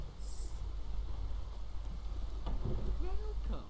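Steady rain hisses across a stormy scene in The Witcher 3, a dense continuous wash with a low rumble underneath and brief faint game sounds near the end.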